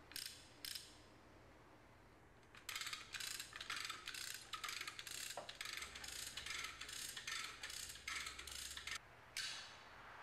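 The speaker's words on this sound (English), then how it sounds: "each hoist having a mechanism which disengages to allow free chain movement" Lever hoist with a free-chain mechanism ratcheting in quick, regular clicking bursts at close range, with short pauses between runs of clicks over a quiet background.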